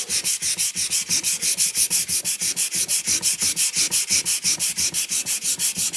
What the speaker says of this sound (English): Let's see if anything shows up with a little bit of sanding.